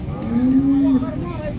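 A single loud, low, drawn-out cow moo, close by at a rainy cattle market, lasting under a second against steady background noise.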